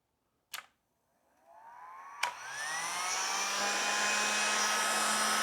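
A faulty heat gun clicks on, then whirs up into a loud, steady high-pitched blowing whine with a faint hum beneath, preceded by a short bump and click, with no talking.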